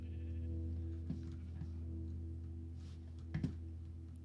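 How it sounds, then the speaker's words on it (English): Minecraft sheep bleat a few times at mid distance over a steady low game hum, with brief louder calls standing out near the start and toward the end. "grab the rest of my fences to try and get these sheeps involved"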